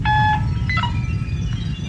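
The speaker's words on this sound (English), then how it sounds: "Isn't that your scanner alarm, Mora?" Spacecraft scanner alarm in a science-fiction radio drama: a loud, steady electronic beeping tone that shifts pitch partway through, with a low rumble underneath and no talking.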